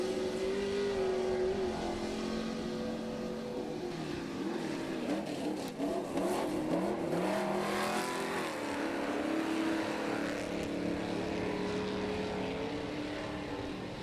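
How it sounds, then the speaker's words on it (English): Short wheelbase Ford Bronco off-road race truck in a sportsman race at Crandon, roaring down the backstretch toward a gravel pit turn, its engine note swelling and shifting loudly with no talk. "Short wheelbase Ford Bronco. Heading down that backstretch past the skyboxes into the Polaris gravel pit turn."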